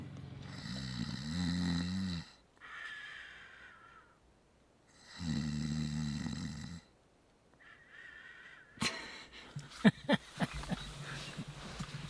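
A man imitates snoring at a campsite during an elk bow hunt, making two long, raspy, rumbling snores close by with pauses between them, followed by rustling and clatter.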